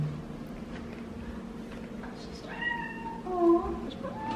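A cat on a leash outdoors gives a few clear meows under faint background noise, with a voice speaking softly nearby.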